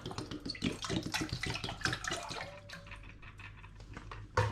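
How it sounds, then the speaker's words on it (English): Spring water is poured into a pan while brewing ginger ale. It starts as a busy splashing stream and settles into a quieter, steady trickle near the end. "In my next pan, I'm going to begin by adding some spring water."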